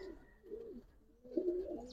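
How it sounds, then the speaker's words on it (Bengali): Soft, close pigeon coos in two short bursts with a brief pause between, quiet and alone. "খুব ফ্রেশ একটা কবুতর"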